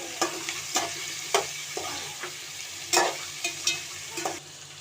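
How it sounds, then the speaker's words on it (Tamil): Eggplant and drumstick pieces sizzle as they are stirred in a hot pan, a steady frying hiss broken by a few sharp scrapes of the spoon. "இப்போ வந்து கத்திரிக்காய் முருங்கைக்காய் சேர்த்துக்கலாம் தேவையான அளவு சேர்த்துக்கோங்க நல்லா வதக்கிக்கலாம்"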